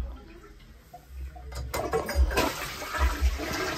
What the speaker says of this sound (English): Where the toilet go flush?